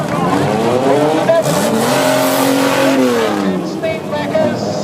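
A Rolls Royce drives past in a charity parade, its engine note rising and falling as it passes, loud and close over a busy outdoor crowd with talking in the background.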